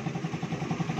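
A motorcycle engine idles after a valve shim adjustment and tensioner reset, with a close, steady, rapid low putter and a light mechanical tick pulsing through it.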